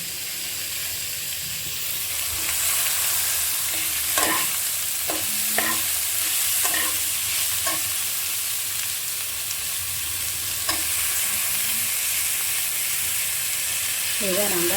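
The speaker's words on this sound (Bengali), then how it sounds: "একটুখানি রস জলটা চেপে এর মধ্যে কড়াইয়ের মধ্যে দিয়ে দেবো" Banana stem stirred and fried in a wok: a steady, close sizzling hiss with scraping stirring strokes scattered throughout, and no talking.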